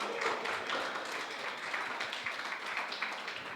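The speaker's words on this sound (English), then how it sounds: "So please welcome with an applause." A conference audience applauds to welcome the next speaker, a steady wash of clapping from a crowd that holds at an even level throughout.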